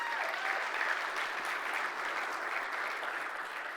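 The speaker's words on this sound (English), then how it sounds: "Give yourselves an applause." Sustained applause from a crowd, a dense even patter of many hands clapping at once, holding steady without pause.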